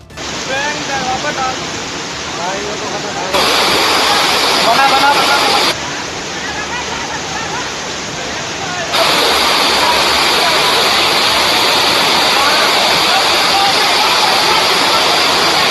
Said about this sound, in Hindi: गलियों में नदी की तरह पानी बहने लगा।